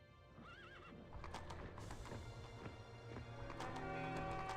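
Light horse cavalry in a strategy video game: a dense clatter of galloping hooves with several whinnying neighs, set against continuous battle and ambient game noise.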